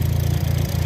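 A vertical two-cylinder engine fitted to a leek transplanter runs steadily at idle, a close, loud, even low throb with a regular pulsing beat and no voices.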